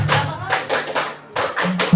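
Rhythmic scout hand clapping by a group in short bursts, a quick patterned beat with brief pauses, loud and close.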